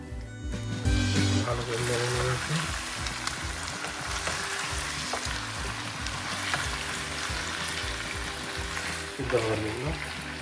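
Pre-fried chicken goes into a hot pan and sizzles steadily and close, with stirring scrapes throughout and a voice speaking over the frying.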